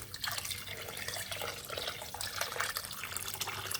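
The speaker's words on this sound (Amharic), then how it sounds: "እዚህ ጋር ውሃ እጨምራለሁ። እናንተ ቀዝቃዛም ሙቅም መጨመር ትችላላችሁ።" Steady running water pours continuously, a broad splashing wash with small drips on top, fairly close and with no voices.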